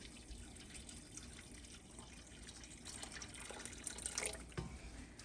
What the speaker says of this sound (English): We're gonna add hot water to the canner, just enough to cover the jars by an inch or two.